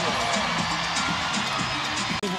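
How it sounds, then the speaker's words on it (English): A volleyball arena crowd at a women's college match cheers and whoops loudly, a dense continuous roar with voices talking over it. "Crowd trying to get the energy up"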